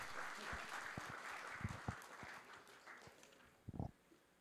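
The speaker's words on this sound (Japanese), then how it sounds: "大きな拍手を。" A lecture audience in an assembly hall gives scattered, fairly quiet applause, individual claps standing out irregularly with a brief louder cluster near the end.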